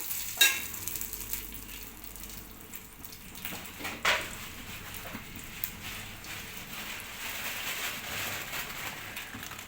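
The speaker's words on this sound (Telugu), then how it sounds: "ఇట్లా ఘాటు రాకుండా మంచిగా వేగుతాయి మిరపకాయలు" Dried red chillies fry in a pan with drumstick leaves and rock salt, a continuous close sizzle broken by occasional stirring clatter.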